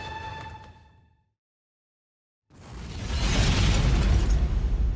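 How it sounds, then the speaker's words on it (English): A suicide bomber detonates on a staircase during an SAS raid on an al-Qaeda position: a tonal sound fades into a second of silence, then a loud, broadband roaring blast swells in and stays dense and heavy to the end. "the suicide bomber had blown himself up"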